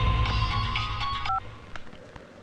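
A telephone is dialed in a Telugu comedy film scene, with a steady tone and a short keypress beep over a busy, loud soundtrack that fades afterward.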